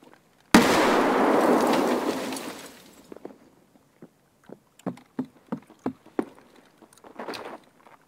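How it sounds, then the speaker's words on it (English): A grenade blast in Escape From Tarkov booms loudly and rolls off over a couple of seconds, then a string of sharp, scattered pops and cracks, like gunfire or impacts, follows at moderate distance. "Someone just threw a nade at me, I think."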